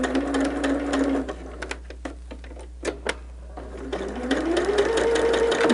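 A sewing machine runs steadily while stitching a quilt block for a winter snowflake pattern, stopping briefly in the middle for a few clicks and taps before the motor whirs up again, close and loud.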